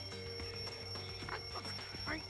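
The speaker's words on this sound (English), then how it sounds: "The wall clock just started ringing." A wall clock alarm rings steadily in Danganronpa 2, a thin continuous electronic tone held throughout while a voice speaks over it.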